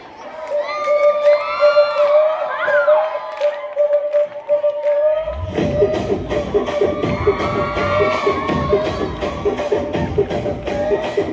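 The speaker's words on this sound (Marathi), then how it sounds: "जोरदार टाळ्या वाजवा." A large school audience at an annual gathering and prize-giving cheers and shouts, with children's voices prominent. Dense, continuous crowd noise and what sounds like clapping swell in after a musical passage and stay loud to the end.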